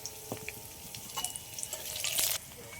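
Cumin, black pepper, dried and green chillies and garlic hit hot oil, crackling and sizzling with sharp pops and a brief stirring scrape that rises toward the end.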